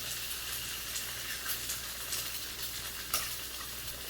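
An egg sizzles in a hot pan as it is scrambled for fried rice: a continuous crackling fry with light scraping and stirring taps, fairly quiet and close, with no talking.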